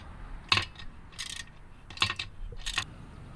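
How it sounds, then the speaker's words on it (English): A 12mm wrench tightening the nut on a TPMS sensor at a wheel, heard as four short bursts of metallic ratcheting clicks close by. "Now we're gonna get a 12mm and tighten it up"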